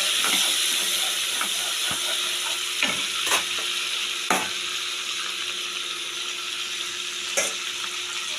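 Spice paste with soaked ginger and a little sugar fries and sizzles steadily in a pan, with scattered scraping stirs of a spoon cutting through the continuous hiss.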